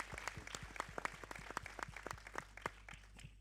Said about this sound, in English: We can probably give him an applause.